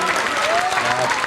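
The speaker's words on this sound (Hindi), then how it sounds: "एक बार ताली आप लोग जरूर बजाइए प्रभु जी के लिए।" A crowd at a Ram Vivah stage performance claps in a brief, busy burst for Lord Rama, with a voice and a sustained musical tone running over the applause.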